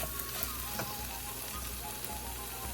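Onion frying in a pan over gentle, medium heat for Peruvian aji de gallina, a steady close crackling sizzle with faint occasional stirring clicks and no voices.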